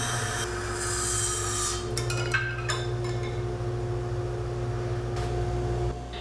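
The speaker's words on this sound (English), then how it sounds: "headed over to the bandsaw to rough out the shape," A bandsaw roughing out the shape of a wooden bookshelf piece: a steady motor hum with a rasping cut that is heavier in the first two seconds, then a continuous whir, close and without talk.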